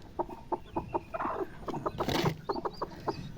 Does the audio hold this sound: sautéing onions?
no